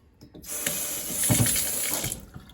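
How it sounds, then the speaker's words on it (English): A kitchen faucet is turned on and water runs steadily into the sink with a close, hissing splash for about two seconds before it shuts off; no voices are heard. "that way we can turn the water on and off with the faucet, which is nice."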